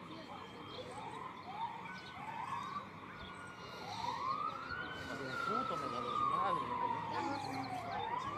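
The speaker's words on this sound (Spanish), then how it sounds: "Ahí va la ambulancia para arriba." An ambulance siren wails up and down, growing louder and nearer after a tanker-truck explosion in Milpa Alta, Mexico City, with people talking close by throughout.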